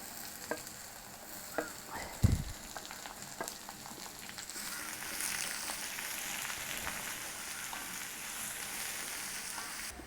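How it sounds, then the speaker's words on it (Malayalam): Thinly sliced small onions sauté in a pan with a steady sizzle and occasional scraping stir strokes, a sharp knock near the start, the frying hiss growing brighter and fuller toward the end. "ഇതൊന്ന് നന്നായിട്ട് വഴറ്റിയെടുക്കണം."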